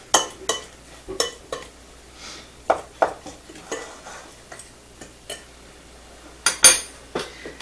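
Flour and baking powder mixed in a bowl for Christmas jam bars, a utensil tapping and scraping against the bowl in irregular clicks and clinks, close and fairly quiet, with no talking.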